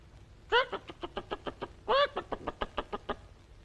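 A voice imitates a hen: two drawn-out squawks, each followed by a quick run of short, rhythmic clucks, close and clear.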